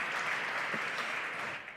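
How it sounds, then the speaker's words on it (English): An audience at a conference summit stage applauds for Anne, with sustained dense clapping throughout that tapers slightly at the end. "Big applause for Anne, please."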